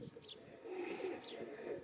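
A Teddy king pigeon coos softly and close by, two short throaty calls roughly a second apart over a faint background murmur.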